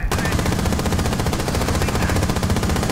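Sustained automatic gunfire in Rainbow Six Siege during a team deathmatch on the Presidential Plane map, a rapid, steady stream of loud, close shots that rattles on without a break for several seconds.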